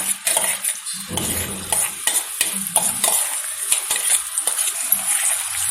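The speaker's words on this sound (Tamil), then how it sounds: "நெய்யில் நல்லா கலந்து கொஞ்ச நேரம் வேகட்டுங்க நல்லா கிளறிக்கோங்க" Ground dates being stirred into hot ghee for date halwa, a spoon scraping and clacking against the pan in repeated strokes over a steady sizzle, close and fairly loud with no talking.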